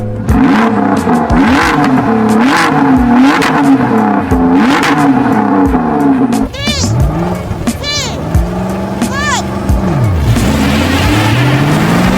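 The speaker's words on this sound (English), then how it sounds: "And finally, Camilo, will you rev up your car?" A Ford GT engine blips through a rapid series of revs, then surges and whines loudly up and down, close by with some voices mixed in.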